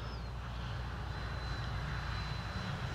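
An FMS Viper RC model jet, 15-year anniversary edition, flies aerobatics overhead, giving a steady, continuous engine roar with a faint high whine that holds through the three seconds, with no talk.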